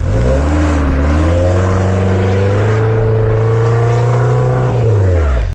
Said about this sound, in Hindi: गाड़ी के सिर्फ पिछले टायर ही घूम रहे हैं, अगले टायर जोर ही नहीं लगा रहे